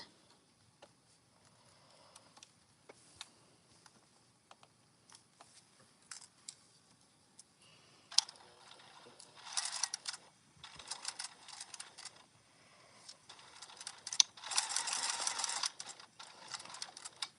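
A sewing machine basting zipper tape for a wallet, quiet ticking and clicking at first, then short whirring stitch bursts that grow louder toward the end, close and alone.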